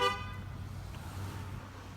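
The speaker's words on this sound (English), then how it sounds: "Is he honking at me?" A single short car horn honk sounds at the very start, fairly near, then fades into a low, steady hum.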